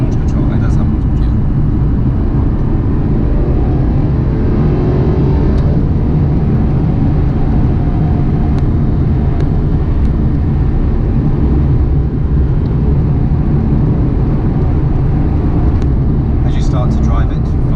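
Aston Martin Vanquish Volante accelerating hard from a standstill, a loud, dense, continuous engine and road roar heard from inside the car, with no clear gear breaks.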